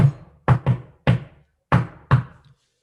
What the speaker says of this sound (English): one day there was a knock on the palace door.